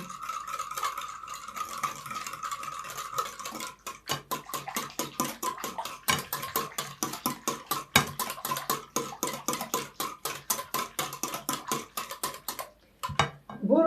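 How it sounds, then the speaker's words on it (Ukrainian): Rapid rhythmic clinking of a spoon against a bowl as pancake batter is mixed, steady strokes that speed up, with a brief pause and a final clatter. "перемішаю трішки"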